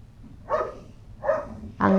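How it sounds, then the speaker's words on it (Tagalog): A dog barks three times at a waterfront park in Tai Po, Hong Kong, sharp separate barks spaced roughly evenly over a couple of seconds, fairly close and clear against a quiet background. "pero ang ingay ng aso."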